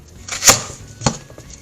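A knife slices into a green plantain: two crisp, close cuts about half a second apart, followed by faint scraping.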